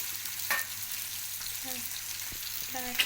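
Chopped onions sauté in a pan for jowar flour uttapam, giving a soft, steady sizzle with a few light stirring clinks.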